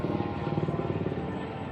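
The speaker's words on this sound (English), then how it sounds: "of helicopters flying over at low altitudes" Helicopters flying low over the cleared Tropicana Las Vegas site make a throbbing, pulsing rotor rumble with a steady engine roar, moderately loud and continuous.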